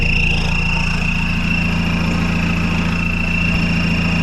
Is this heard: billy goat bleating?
no